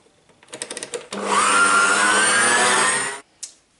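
Stand mixer whisking an almond and hazelnut nougat mixture, a few short whirring bursts before a loud, steady high-speed motor whine that holds for about two seconds and then cuts off, with a brief blip after.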